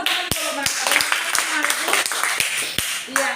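Students in a seventh-grade religion class clap with sharp, scattered claps, a few distinct hand strikes spread irregularly over a few seconds, with voices murmuring underneath.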